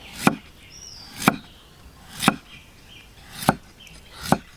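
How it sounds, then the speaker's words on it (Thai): A knife slices through crisp wild rose apple (mak wa) fruit in five sharp, evenly spaced crunches, about one per second, close and clear with quiet pauses between. "ฟังเสียงซอยอ่ะกรอบดีมากนะ"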